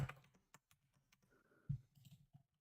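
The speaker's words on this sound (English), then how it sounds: "Keyboard ASMR." A computer keyboard typed on in short, irregular bursts of soft clicks and clacks, quiet and close, with no talk over it.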